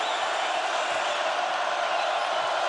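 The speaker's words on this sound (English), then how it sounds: "The crowd is amazing." Home crowd at a Gonzaga vs BYU college basketball game, a steady broadband roar of many voices filling the arena, loud and continuous with no single voice standing out.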